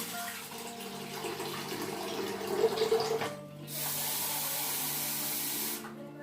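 Tap water runs as fenugreek-soaked rice and lentils are washed in a home kitchen, a soft splashing stream that breaks off and then returns as a steady gush before stopping again.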